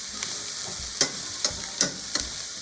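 Vegetables and tofu fry in avocado oil in a pan, giving a steady close sizzle broken by a few louder stirring scrapes at irregular intervals, with no voices.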